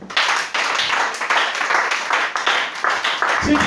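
Church congregation at a worship service claps together in a steady, rhythmic beat, loud and close, with cheering voices mixed into the crowd noise.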